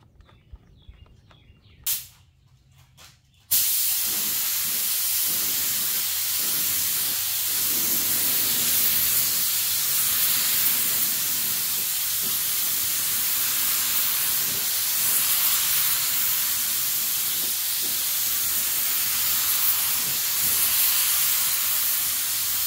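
A spray gun laying down a Rust-Oleum clear coat over a teal and purple pearl paint job, a loud, steady hiss that runs almost continuously after a few brief clicks and quiet handling sounds at the start.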